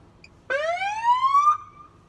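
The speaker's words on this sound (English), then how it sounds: "And then I can make the siren go too." A single toy police car siren wail rises steadily in pitch for about a second, then cuts off sharply, loud and close against a quiet background.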